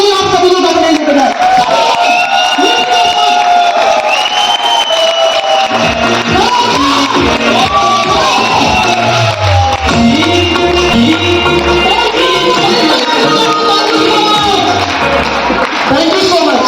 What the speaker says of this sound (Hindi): सीटी के साथ, व्हीलिंग के साथ जोरदार ताली आप सभी लोग अपने लिए बजाएं